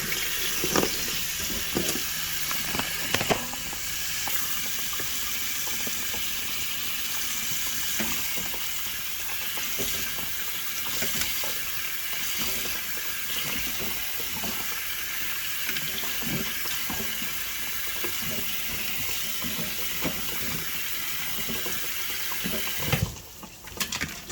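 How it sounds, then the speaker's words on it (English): Water runs continuously from a kitchen tap while ingredients for a Filipino dried-fish dish with alogbati and camote tops are washed, a steady close hiss with faint handling clatter throughout and no talking. "Now let's wash our ingredient first."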